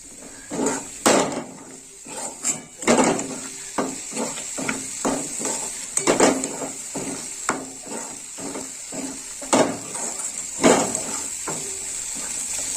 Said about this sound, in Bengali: এবার আমি ভালো করে কষিয়ে নেব।